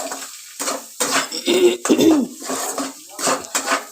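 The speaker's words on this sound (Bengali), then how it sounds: "এইবার নেড়ে নিচ্ছি" A spatula scrapes and clanks against a pan as cabbage with added sugar is stirred, a series of irregular metallic scrapes and knocks close up with no talking.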